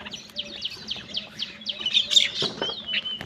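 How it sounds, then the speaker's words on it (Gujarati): Morning birds chirping in quick, repeated bright calls, several overlapping with a faint background hum, with no one speaking. "પક્ષીઓ આવે છે થોડા આવે છે"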